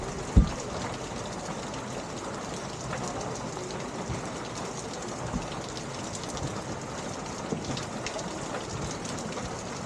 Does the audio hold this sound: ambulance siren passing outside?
no